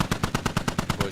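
Automatic gunfire in an online military shooter video game: about ten loud, evenly spaced shots in a steady burst, with no speech over them.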